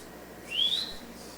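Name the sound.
whistle imitating a father's call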